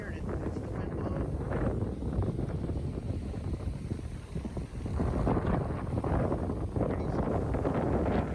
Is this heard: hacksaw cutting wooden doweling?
no